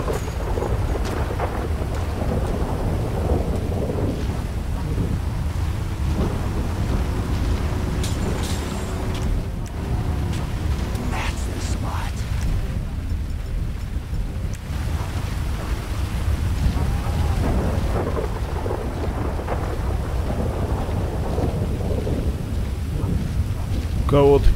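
Rain pours steadily in Grand Theft Auto V while low rolling thunder rumbles underneath, a dense continuous storm wash with a few scattered brighter taps and no clear talking.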